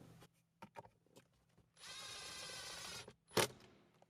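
Two T20 screws are driven back into the lower trim of a 2019+ Chevrolet Silverado or GMC Sierra center console. There are a few light clicks, a roughly one-second whirring drive burst and a sharp clunk, all close and fairly quiet.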